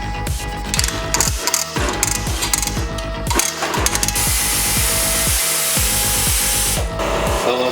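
A ratchet loosening bolts on a Jaguar XJ40, heard as rapid, loud metallic clicking in repeated close-up bursts, followed by a steadier mechanical whirring in the latter half.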